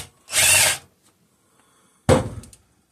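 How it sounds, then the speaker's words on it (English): Power drill driving bolts into a 5hp Briggs and Stratton engine block with a 7/16 socket, two separate bursts: one steady whir of about half a second, then a shorter run that stops abruptly, close up with no talk. "I need a 7/16 socket, and we're going to run them all in."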